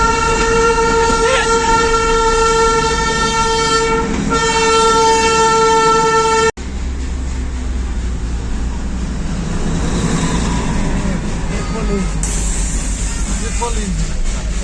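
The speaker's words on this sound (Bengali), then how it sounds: "এটা কয়লার টয় ট্রেন, মানে পরপর দুটো টয় ট্রেন যাচ্ছে একসাথে" Two coal-fired Darjeeling toy train steam engines pass one after the other. A long, loud, sustained whistle blows for several seconds, then cuts off into a steady, heavy rolling rumble of the passing train.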